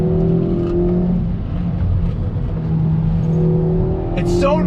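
A 2020 Kia Forte GT with a dual-clutch transmission accelerates hard out of a corner, its engine rising in a steady, loud drone heard from inside the cabin, with faint road noise underneath.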